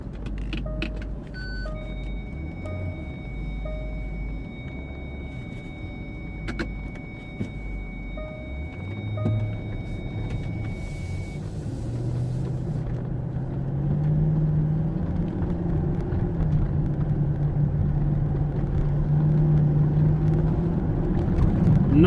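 Range Rover Vogue TDV8 diesel driven on a road with a limp-mode fault, heard from inside the cabin as a low engine drone that rises and grows louder as the car speeds up, with light rattles and ticking chimes early on.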